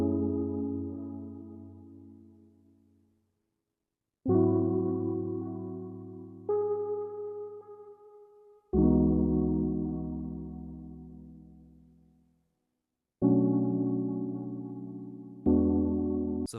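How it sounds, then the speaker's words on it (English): A warm Analog Lab synth patch laying down the foundation of a smooth R&B track, playing six sustained chords that each swell in and slowly fade, with short gaps of silence between some of them. "So this was the first synth that I found in Analog Lab that I used to really set the tone for it."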